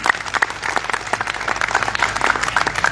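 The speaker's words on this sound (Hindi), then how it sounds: "मीरा दीक्षित के रूप में हमारे बीच में जोरदार तालियां बजाकर सम्मानित कर दीजिए" Steady audience applause, a dense patter of many hands clapping together throughout, fairly loud and close.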